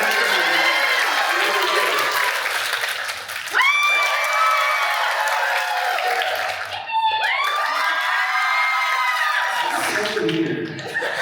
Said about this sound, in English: So my cheers and applause.